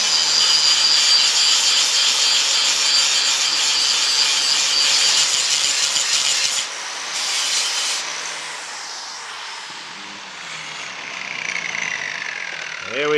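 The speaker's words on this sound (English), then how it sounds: "Just grind it back and see how we've done." Grinder working back a weld on 22 gauge sheet steel during a Series 1 Land Rover restoration, a steady loud whine that eases and wavers toward the end as the tool lifts off.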